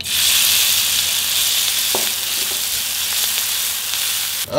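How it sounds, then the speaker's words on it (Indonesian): Ground spice paste sautéing in a little oil in a pan, a steady close sizzle and crackle that runs without a break, with a faint stirring scrape. "Tumis bumbu yang sudah dihaluskan dengan sedikit minyak."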